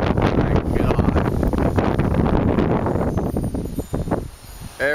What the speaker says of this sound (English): The wind sure has picked up.